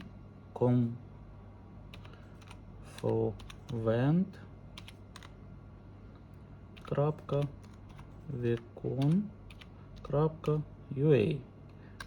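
Soft, scattered clicks from a computer keyboard as search terms are typed into a browser, heard close between stretches of someone talking.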